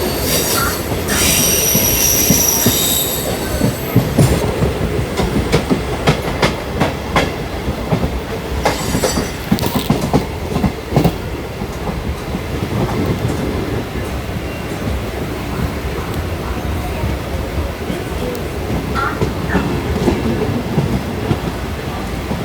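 An Indian passenger train arriving at Pandhurna station squeals loudly on its wheels, with a sustained metallic screech over heavy rumbling and clattering of the rail cars, continuous and close.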